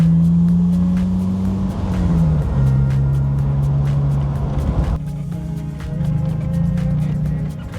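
A 1950s Morgan sports car engine runs loud and close, revving with a steady droning note that dips and climbs again, then settles back to a rumbling idle.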